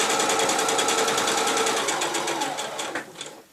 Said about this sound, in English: This is on a small stitch just across the end of the fabric, and then sew straight down to the first mark.